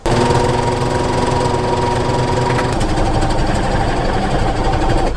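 Sewing machine running steadily as it stitches bedsheet fabric into sweatpants, a loud, continuous mechanical whir with a fast rhythmic chatter throughout and no voices.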